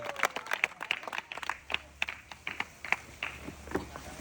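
Audience clapping at an outdoor football prize game with a spinning goalpost, heard as a short scattered burst of hand claps at moderate distance, irregular and thin rather than a dense ovation, with no talk over it.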